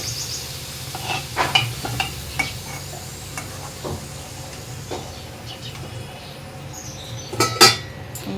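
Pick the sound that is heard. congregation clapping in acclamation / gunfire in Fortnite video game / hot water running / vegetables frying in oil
vegetables frying in oil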